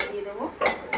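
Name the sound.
covering cooking pan with lid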